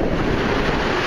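Ocean waves wash up onto a black sand beach in a steady, continuous roar of surf, loud and close, with wind buffeting the microphone throughout.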